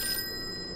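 An old-fashioned telephone rings in a video game, a short bright electronic bell trill heard alone at moderate loudness.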